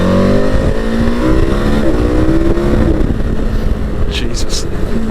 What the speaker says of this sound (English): And the engine noise.